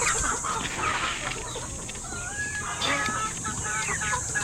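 Chickens cluck and murmur close by in a busy, continuous chorus, with a few brighter calls rising over the flock.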